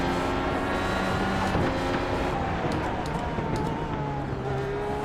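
A race car engine in the iRacing video game, driving at Belle Isle in Detroit, drones steadily with shifting pitch as the car runs on, a continuous loud mechanical roar with no talking over it.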